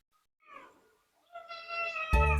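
A kitten meows twice, a short faint cry followed by a longer, louder, clearer meow, then a brief low thump at the end.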